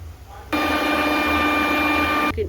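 A kitchen mixer grinder whirs steadily for about two seconds as it blends soaked cashews into a paste, starting abruptly and cutting off sharply, loud and close.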